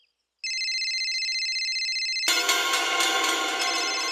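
A phone rings with a steady electronic ringtone that starts abruptly and holds for about two seconds. A louder, noisier burst of sound then cuts in and takes over.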